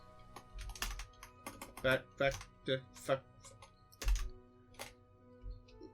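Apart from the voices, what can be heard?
typing on a computer keyboard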